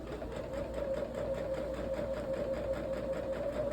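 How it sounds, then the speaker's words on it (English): A sewing machine stitches a quilt top with quarter-inch seams, a close, steady whirring drone with a fast even pulse running throughout without pause. "I'm just going to sew this quilt top together"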